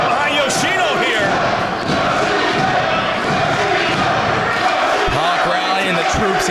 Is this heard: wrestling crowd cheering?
yes